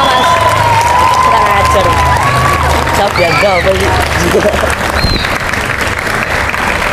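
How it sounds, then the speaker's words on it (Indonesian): A school audience of children bursts into loud clapping, a dense run of applause under brief spoken words and chatter, with the clapping thinning toward the end. "Tepuk tangannya dong."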